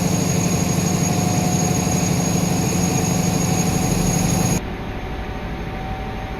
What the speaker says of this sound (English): Love the screams for Valenta engines